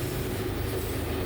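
CSX southbound intermodal freight train passing: a short burst of loud, dense rail rumble and wheel clatter close by, with no voices.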